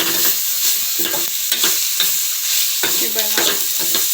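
Bamboo shoot vegetable stirred and fried in a pan, with steady sizzling and repeated scraping strokes of a spoon at close range and no talk.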